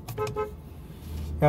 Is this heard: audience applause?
no